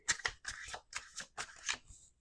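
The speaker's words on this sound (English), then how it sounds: "Last shuffle." A tarot deck is shuffled by hand in several close, crisp riffling bursts with brief pauses between them, ending in a softer tap as the cards settle.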